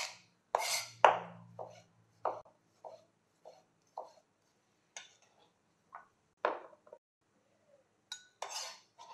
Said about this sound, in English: Tomatoes, finely chopped as well.